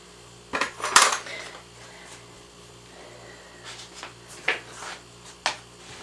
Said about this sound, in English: all I have to do now is to scrape off any more ice that is down in the sections here